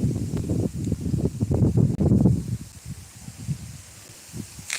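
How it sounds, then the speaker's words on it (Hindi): Strong wind gusts through neem tree leaves near a farm field, a loud continuous rustling roar that swells and ebbs, easing toward the end, with no talking. "देखिए कितना तेज हवा चल रहा है।"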